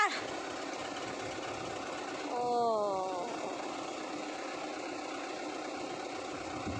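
A motorcycle engine idles with a steady, low drone throughout, and a singing voice rises briefly above it partway through.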